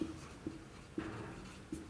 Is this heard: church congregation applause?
no